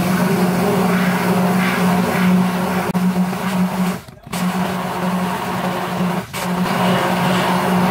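A repaired kitchen blender motor running at speed setting 9, a loud, continuous, steady whirring drone with two brief dips where the motor noise drops out.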